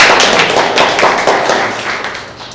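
A room of students bursts into loud, steady applause for a new member at a student parliament meeting. The clapping runs dense and unbroken for the whole stretch.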